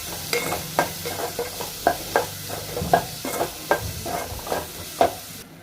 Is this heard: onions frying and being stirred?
yes